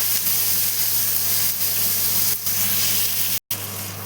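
Onions sauté in a pan until golden, giving off a steady, close sizzle and hiss that runs without a break apart from one brief cutout.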